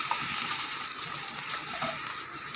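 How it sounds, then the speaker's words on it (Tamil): Rice-washing water pours steadily into a pot for Manathakkali keerai soup, a continuous close splashing gush throughout. "அரிசி களைஞ்ச தண்ணி அதுவும் ஊற்றிக்கிறோம்"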